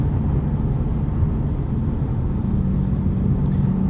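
A 2016 Ford Mustang Shelby GT350 on a city drive, its engine a steady, deep low rumble heard from inside the cabin, constant throughout with no speech.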